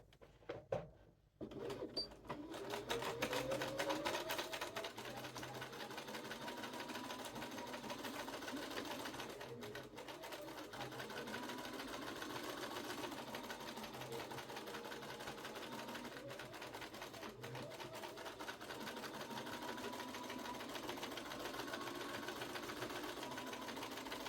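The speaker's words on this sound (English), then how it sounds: "So go over to the sewing machine again." A sewing machine runs in a long continuous stretch of rapid, even stitching, briefly pausing a couple of times, close and fairly quiet.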